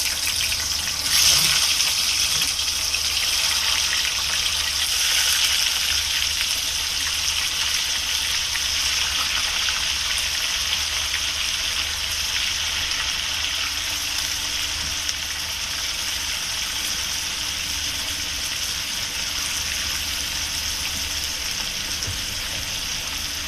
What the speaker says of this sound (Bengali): এখন আমি মাংস ভাজার জন্য দিয়ে দিলাম